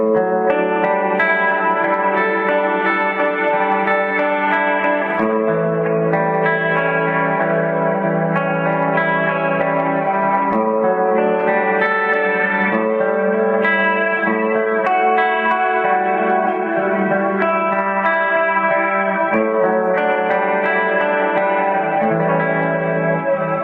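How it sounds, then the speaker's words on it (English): Electric guitar played through a TC Electronic Hall of Fame pedal on its modulated reverb setting, with tri-chorus swirling only the reverb tail; sustained chords and notes ring continuously with a lush, wavering wash, loud and alone. "next up we have the modulated reverb, and that adds tri-chorus to the reverb tail only"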